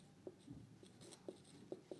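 Pen or pencil writing on paper during a physics lesson, a few short soft scratching strokes spaced unevenly, quiet and close, with no talking over them.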